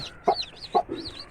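An Aseel mother hen inside a coop with her newly hatched chicks gives two short, close clucks, with a softer chirp-like trill between them.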